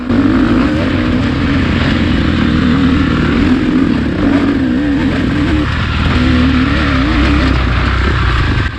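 A 2-stroke KTM and a 4-stroke Honda CRF dirt bike race on a track, a loud, close, continuous engine roar with rising and falling revs.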